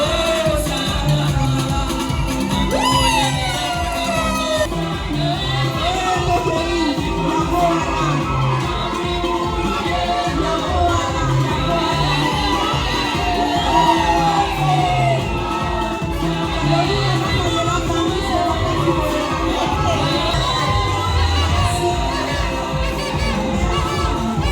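Crowd at a Congolese wedding celebration cheering and shouting with whoops, steady and dense over music with a low rhythmic beat throughout.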